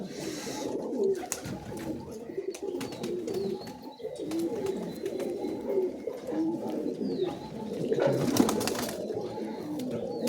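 Shia-generation Giribaz pigeons coo steadily and densely in a crowded loft at a house, with overlapping calls running the whole time and faint voices underneath.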